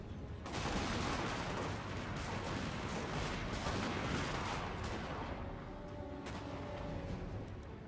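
Continuous dense battlefield din from Total War: Warhammer 2, with ranged volleys and artillery fire against dwarves rolling into a steady roar, with sharp cracks and booms layered throughout.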